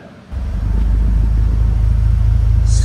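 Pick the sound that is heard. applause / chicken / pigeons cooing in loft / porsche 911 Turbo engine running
porsche 911 Turbo engine running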